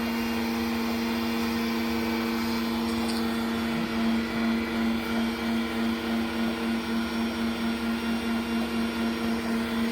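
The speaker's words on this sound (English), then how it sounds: "He's going to go ahead and run the cowl flaps." Electric motors run the two cowl flaps on an aircraft, a steady mechanical whine and hum with a constant tone that grows slightly louder partway through, with no talking.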